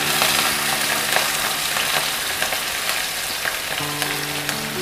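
Chopped green chillies and onions frying in a pan for a spicy kundru (ivy gourd) curry, a steady close crackling sizzle with stirring scrapes throughout, no talk.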